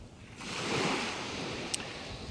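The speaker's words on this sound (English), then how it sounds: "being in an environment like this and next to the sea, especially when it's so calm, that as the tide sort of comes in and out" Calm sea waves wash gently onto a beach in the early morning, a soft, steady hiss of surf with light wind, faint and continuous.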